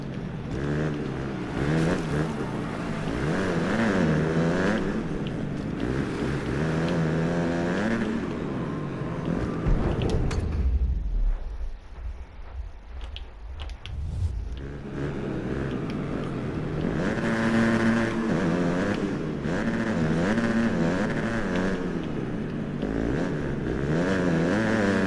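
Dirt bike engines race in the MXGP Pro video game, droning and revving steadily with rising and falling pitch, easing off briefly midway before climbing back to a loud, continuous whine.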